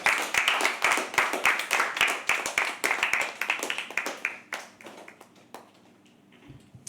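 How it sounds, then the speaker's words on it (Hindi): An audience at a live poetry open mic at The Habitat claps energetically, many hands in a close, lively burst that gradually thins into scattered individual claps and fades out. "जोरदार ताली एक बार अभिदेव के लिए"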